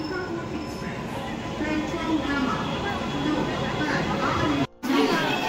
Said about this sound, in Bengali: ঢুকে গেছে আমাদের ট্রেন।